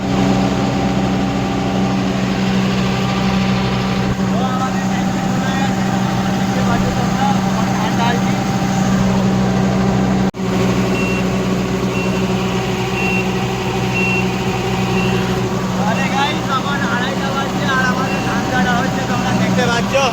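A rice combine harvester's engine runs at night with a steady, loud droning hum and constant tonal whine, unbroken throughout.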